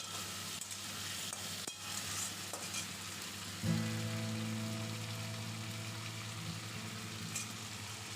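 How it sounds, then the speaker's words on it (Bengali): Steady sizzle of papaya pieces frying in a pan, with a louder burst of hissing and crackle midway as more goes into the hot oil. "এবার পেঁপেগুলো দিয়ে একটু ভেজে নিচ্ছি"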